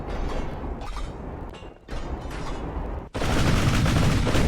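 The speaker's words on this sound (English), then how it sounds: "We need to turn a little more so we can get more of these guns firing" Naval ship guns fire in rapid, overlapping booms in the video game Ultimate Admiral Dreadnoughts, a dense barrage that swells louder near the end.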